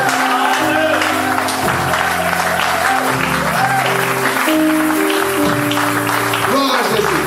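A church congregation applauds in a steady, dense wash of clapping during a French worship service, with singing and a voice running over it the whole time.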